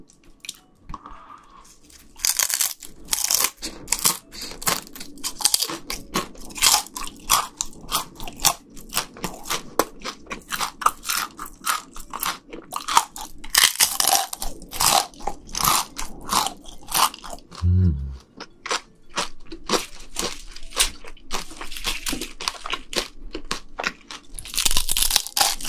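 Crunchy seafood such as shrimp and sushi being eaten up close, with loud, irregular bites and crunches, wet chewing and small drips, plus a brief low thump partway through.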